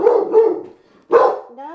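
A dog barks close and loud in two short bursts, with a brief whining tone trailing after.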